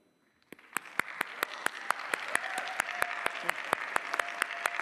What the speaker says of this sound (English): Please give an applause to the future energy leaders.